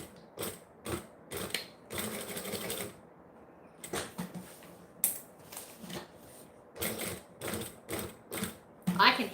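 A home sewing machine labors through thick quilted fabric layers, stitching in short, uneven mechanical bursts broken by brief pauses. It sounds close and moderately loud.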